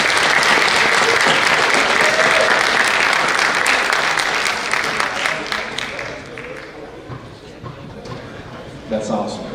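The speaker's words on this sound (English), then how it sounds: "Let's give them one more round of applause as they make their way through." A school board meeting audience gives a long, dense round of applause as honorees walk through. The clapping is loud and continuous at first, then eases off with a few scattered claps and murmurs.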